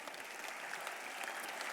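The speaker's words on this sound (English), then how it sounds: "let's get a round of applause again for our Thank You Water" Steady audience applause at a charity award event, a dense continuous patter of clapping from a crowd filling the space without any voices standing out.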